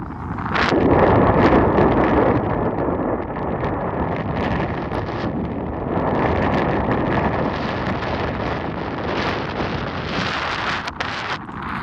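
Strong, steady wind gusts buffet the microphone outdoors near the Velliangiri mountains, a continuous roaring rush with no speech heard.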